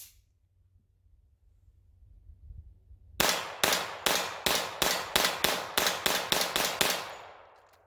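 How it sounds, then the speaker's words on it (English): A Beretta 81 pistol is emptied in a rapid magazine dump: after a quiet lead-in, about a dozen sharp, loud shots crack out in a fast, even string, each ringing briefly before the next, then fading away. "I'm going to do a little mag dump there just to see, and flawless."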